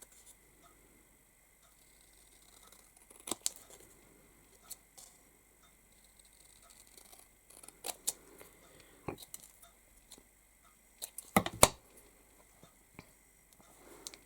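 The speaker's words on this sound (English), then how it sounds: "then we can trim around that with our scissors just to give it a little narrow border" Scissors trimming around a glitter card sentiment while making a shaker card, a scattered series of faint, close snips and small crisp clicks in a quiet room.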